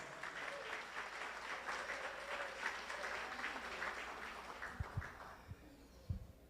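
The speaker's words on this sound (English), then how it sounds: "Kindly give her a round of applause." An audience at a charity awards ceremony applauds an honored guest, a soft, fairly distant wash of clapping that fades toward the end, with a few louder thumps near the close.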